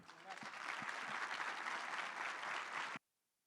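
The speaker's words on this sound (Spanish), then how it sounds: "Entonces el aplauso debe estar bien fuerte." Audience applause welcoming a doctor as he takes the stage at a conference on the Public Ministry and criminal investigation, a steady dense round of clapping lasting about three seconds and then stopping abruptly.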